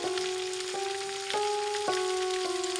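Spices and mustard paste stir-fried in oil for mango pickle give a continuous crackling sizzle, close up, with a steady tonal hum running underneath and slight shifts at regular intervals.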